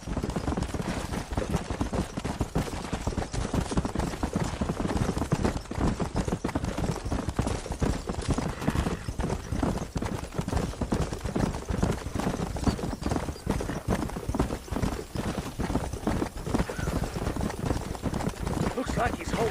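Horses gallop in the video game Red Dead Redemption, a rapid, continuous clatter of hoofbeats close up and loud throughout, with voices speaking over the riding.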